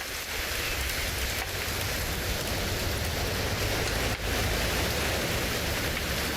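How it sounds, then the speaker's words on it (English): Steady rain from What Remains of Edith Finch, a dense continuous hiss of falling drops with no voices, even and close throughout. "It's gonna rain the whole weekend"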